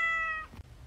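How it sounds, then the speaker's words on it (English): A cat gives a single short, clear meow lasting under half a second, fairly close, followed by a soft thump and quiet. "Do you have a cat?"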